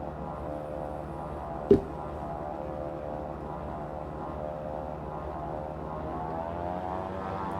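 Steady propeller drone of a light SeaRey Elite sport seaplane cruising in Microsoft Flight Simulator, a constant engine hum held throughout with one brief sharp click early on.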